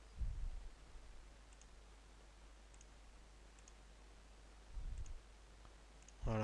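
A computer mouse clicks faintly three times in a quiet room as the pen tool is used to trace the corners of a logo. The clicks are well spaced, and no one speaks over them.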